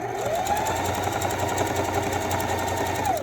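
Sewing machine stitching trim onto fabric for a one-piece garment, a loud, close, continuous motor hum running without pause for a few seconds.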